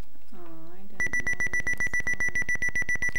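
Rapid, evenly spaced electronic beeps from an Odyssey2 hockey game mark a score, starting after a brief burst of voice and repeating loudly to the end.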